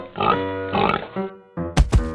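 A cartoon pig oinks in short voiced grunts and snorts in a children's animal song, with a musical backing underneath and two sharp closing bursts.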